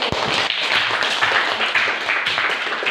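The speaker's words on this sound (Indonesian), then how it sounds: "Jadi tepuk tangan untuk nanti." A group of people clapping together in a classroom lesson, a continuous dense patter of hands lasting a few seconds at moderate loudness.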